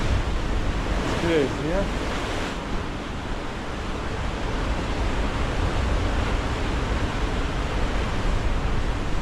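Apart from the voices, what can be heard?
strong force 8 wind and rough waves at Malta coast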